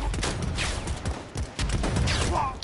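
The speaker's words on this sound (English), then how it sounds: "Bro, the shotguns in this game are trash." Shotgun blasts in the video game Predator: Hunting Grounds, several loud booming shots spread irregularly through a busy mix of game noise.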